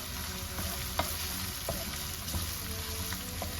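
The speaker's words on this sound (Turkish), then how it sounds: "Soğan ve kıymalarımı karıştırmaya devam ediyorum." Onions and minced meat frying in a pan while being stirred, a steady close sizzle with soft scraping strokes of the spoon throughout.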